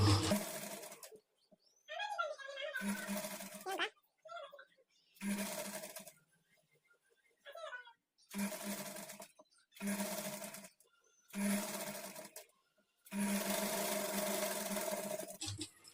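A sewing machine stitches a kurti sleeve in repeated bursts of whirring, about seven runs separated by short pauses, with someone talking quietly in the gaps between stitching.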